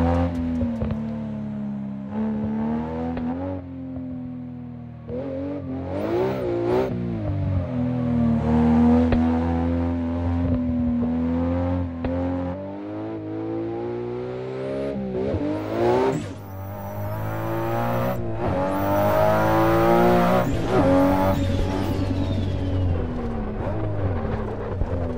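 A Zilla-tuned 936-horsepower Nissan R34 in the racing game Assetto Corsa revs and accelerates hard through repeated gear changes, engine pitch climbing and dropping for about 25 seconds with no talk.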